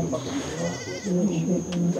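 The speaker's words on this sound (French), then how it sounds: "Voilà la chèvre." A goat bleats in a Cameroonian village at Bandjoun, several wavering, nasal cries in close succession, heard alongside a person talking nearby.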